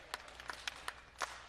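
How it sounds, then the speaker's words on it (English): A wrestling crowd at a live show in a tattoo expo hall claps in a few scattered, distinct bursts, moderately distant over steady room noise. "And they're clapping"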